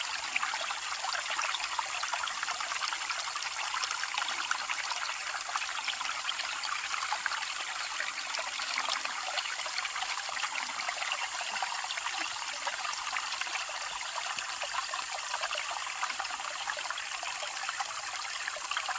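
Water runs steadily through a gold prospecting sluice in North Carolina, a constant close trickling and rushing flow with no breaks and no voices.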